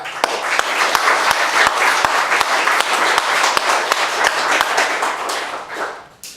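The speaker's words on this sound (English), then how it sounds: "if we could give them a round of applause" An audience at a candidates forum bursts into sustained applause, dense clapping with a few sharp individual claps standing out, fading toward the end.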